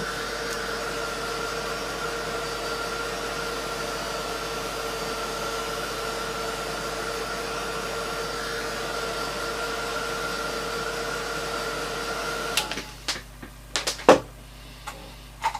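A heat tool used for heat embossing blows hot air in a steady, even whoosh for about twelve seconds, then cuts off, leaving a few scattered taps and clicks nearby.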